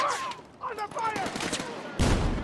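Gunfire bursts crackle in an online military shooter during a chaotic firefight, with a sharp, loud volley near the end, mixed under radio-style voice callouts.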